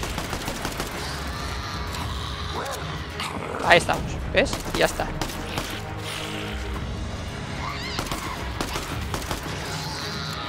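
Sharp bursts of video game gunfire go off in a zombie shooter, a few louder shots standing out against a busy game soundscape while someone talks over them.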